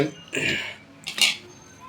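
A cooking vessel used to prepare Ugadi bevu-bella with tamarind and jaggery is handled, making two short, faint metallic clatters about a second apart.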